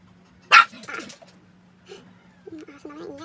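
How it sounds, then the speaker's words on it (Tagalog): A dog gives one loud, close bark, followed by quieter whimpering sounds while a person talks over a steady low hum. "Yung aso naman ingay."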